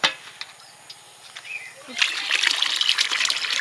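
In a village pond, water is poured and splashes while small fish such as puti and mourala are netted with a scoop net and sorted. Quiet trickles give way to a sustained, close splashing pour, with a voice speaking nearby.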